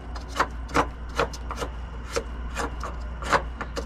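Nut on an Airmar DTS810 boat transducer being hand-tightened, giving a series of short, close scraping and rubbing strokes at an uneven rhythm, with no talking.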